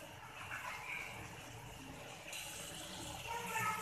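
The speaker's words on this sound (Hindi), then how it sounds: "इसमें मैं थोड़ा सा पानी ऐड करती हूँ।" Water poured into browning masala in a pan for bondi salan, giving a steady hissing sizzle and running-water rush that grows slightly louder toward the end.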